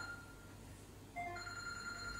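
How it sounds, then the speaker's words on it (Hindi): A mobile phone starts ringing partway through in a quiet home kitchen, giving a steady electronic ringtone with sustained tones that is fairly faint against low background noise. "यहाँ फ़ोन आ गया था और फ़ोन बड़ा ऊंची ऊंची बोल रहा था"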